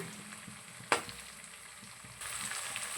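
Ginger paste fries in a pan with a continuous sizzle, and a sharp scrape or clatter from stirring comes near the start. The frying grows louder toward the end, with no talk.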